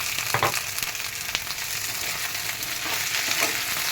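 Okra, potato and tomato fry together in a pan, a continuous sizzle with scattered clicks and scrapes of stirring, moderately loud and without talk.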